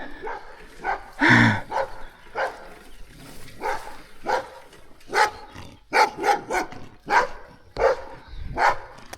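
Dogs bark repeatedly at a moderate distance in a village, sharp woofs arriving in an uneven rhythm with some yips, over faint outdoor background.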